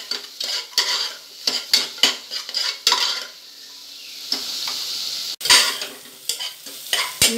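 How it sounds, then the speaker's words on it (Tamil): Large onions sautéing in a pan for a coriander mint pulao, a loud sizzle broken by repeated quick spatula scrapes and clinks against the pan, close and vigorous. "இந்த வெங்காயத்தை நல்லா வதக்கணுங்க"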